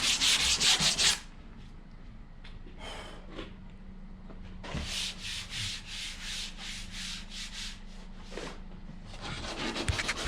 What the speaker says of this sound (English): Now we're hitting it with our 320, smoothing it all out.